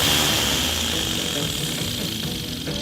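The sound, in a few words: 3D-printed Wankel rotary engine spinning a red propeller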